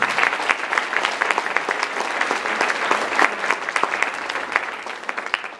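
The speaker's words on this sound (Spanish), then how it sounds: "Dele palmas al Señor." A church congregation claps together in sustained, dense applause during a Spanish-language sermon, loud and continuous for several seconds, with a faint voice underneath.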